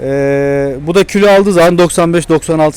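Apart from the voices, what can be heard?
No distinct noise like a dog, phone or traffic.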